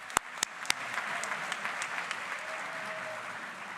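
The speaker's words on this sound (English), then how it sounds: "So let's give a big round of applause to our outstanding staff at Renaissance School" Audience at a 2023 school graduation ceremony applauding the school staff: a steady wash of clapping from a large crowd, opened by a few sharp, close claps, sustained and even throughout.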